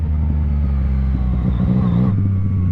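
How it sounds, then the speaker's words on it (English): Yamaha MT-09 inline three-cylinder motorcycle engine running steadily at a loud, close, continuous rumble, with a shift in pitch near the end as the revs change; no talking. "The inline 3-cylinder is a lot more sprightly than the FZ-07."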